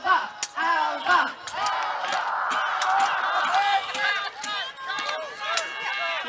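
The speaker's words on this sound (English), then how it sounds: "They're shouting and all that." A crowd chants and shouts a rallying battle cry over and over in a steady, loud, continuous roar of many voices, with the repeated calls rising and falling across the clip.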